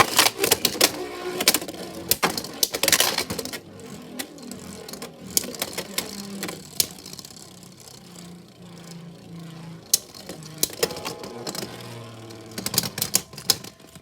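Two Beyblade X tops, Dragoon Storm and Cobaltdragoon, launched into a stadium and battling, giving a fast continuous rattle of clacking, scraping plastic and metal with sharp collision bursts near the start and end.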